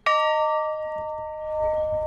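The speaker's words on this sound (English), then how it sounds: "And each time this bell rings, you know that someone's remembering a fallen veteran." A memorial bell rung for a fallen veteran at a Memorial Day service gives one clear, close strike, and its bright tone rings on and slowly fades over two seconds, with faint background noise beneath it.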